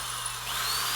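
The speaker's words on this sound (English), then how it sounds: "now we're going to drill the 2 the other way" A power drill bores a hole through a metal stay near a tyre, a steady high-pitched whine with a constant motor hum, close and loud, rising slightly in pitch midway.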